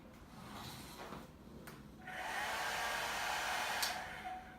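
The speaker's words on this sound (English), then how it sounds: "Okay, blow dryer time." A blow dryer drying an acrylic galaxy paint pour layered over resin, with a few clunks and shuffles, then the motor switches on to a steady airy whoosh that runs to the end.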